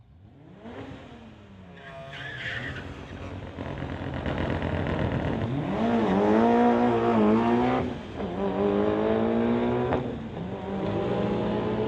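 Two street-legal drag racers, a 2018 VW Golf and a Mitsubishi Evo 9 Lancer, launch and accelerate hard down the strip, engines revving loudly through rising gear pulls with brief shift dips and a faint tire chirp.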